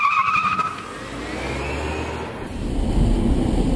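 An electric-conversion Karmann Ghia drives along at close range, giving a steady low road and motor rumble with tyre noise that swells louder toward the end, without talk.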